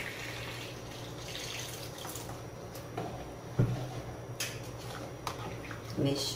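Tap water runs in a soft, steady trickle while detergent is mixed, a faint continuous flow with a few clinks and knocks scattered through and a voice speaking nearby.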